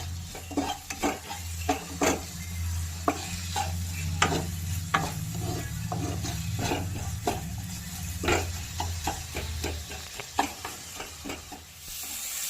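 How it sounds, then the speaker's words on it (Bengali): Onion fries with a pinch of salt in a pan under a soft, steady sizzle, while a spatula stirs with repeated close, sharp taps and scrapes. "এবার আমার পেঁয়াজটা হালকা ভাজা গেছে,"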